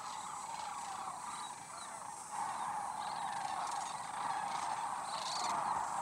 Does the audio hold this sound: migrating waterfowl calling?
yes